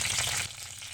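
Green chillies spitting in a spoonful of hot oil, a brief close burst of crackling frying that drops to a softer sizzle halfway through, with no voices.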